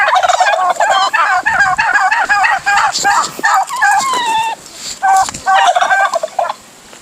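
Turkeys gobble repeatedly in loud, rapid warbling bursts, close to the microphone, with a few short pauses between calls.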